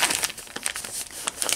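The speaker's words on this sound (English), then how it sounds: "you'll take the paper out of the seam allowances on both sides" Foundation paper is pulled and torn out of quilt seam allowances, giving a run of quick, close crinkling and ripping crackles in irregular bursts with no speech.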